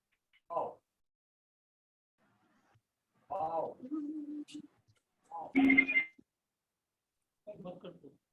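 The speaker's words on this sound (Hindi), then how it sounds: "एक मैसेज आ रहा है अभी" A short tonal chime rings out twice amid intermittent speech, a brief electronic alert standing out clearly over the talking.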